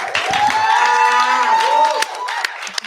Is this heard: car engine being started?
no